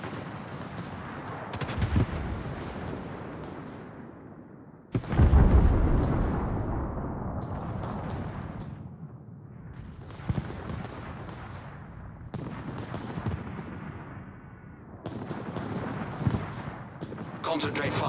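Warship guns fire in a naval battle game, heavy booming artillery shots in irregular bursts, the loudest blast about five seconds in, with rumbling decays between shots.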